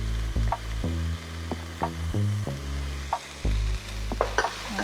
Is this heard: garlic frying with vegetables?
yes